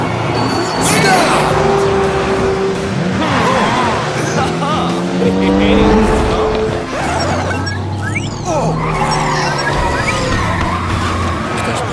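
Cartoon cars racing, a busy mix of zooming engine whines that rise and fall as vehicles speed past, with whooshes and skids, animated character voices talking over parts of it.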